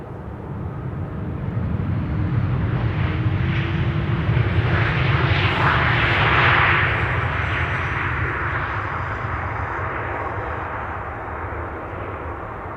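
A KLM Lifeliner aircraft taxis at Amsterdam Schiphol Airport, its jet engines giving a loud, steady roar that swells and then slowly eases as it passes, with no talking.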